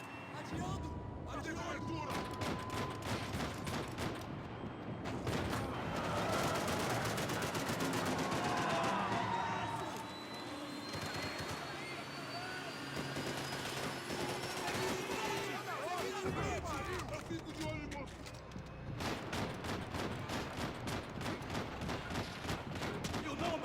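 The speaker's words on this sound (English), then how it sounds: "He seems to shoot faster if we move" Gunfire in the Max Payne 3 video game, rapid bursts and volleys of shots in several stretches with game effects between them, while a person talks over the action.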